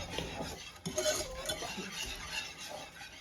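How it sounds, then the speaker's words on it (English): A spoon stirs thickening homemade egg nog in a pot, scraping steadily along the bottom and sides with soft, continuous clinks and swishes, close and moderately quiet, with no talking. "I'm just letting it thicken up all the way, stirring it in, continually stirring so nothing burns on the bottom"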